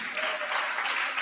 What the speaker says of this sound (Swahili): Tuwapigie makofi, please.